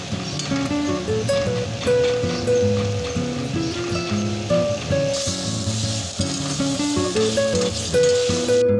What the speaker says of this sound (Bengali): জলটা শুকিয়ে গেলে আদা রসুন পেস্টটা দিয়ে ততক্ষণ নাড়ব যতক্ষণ না কাঁচা গন্ধটা চলে যায়।